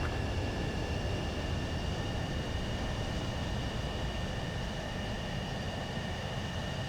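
Continuous jet engine roar and steady whine of a fighter aircraft touching down on a runway in the flight combat game Ace Combat 7, even in loudness with no voices.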